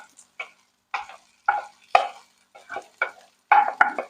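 Tofu with chopped garlic and onion stirred in a pan, heard as a series of about ten short scraping, rustling strokes at an uneven rhythm, close and clear against near silence, no speech.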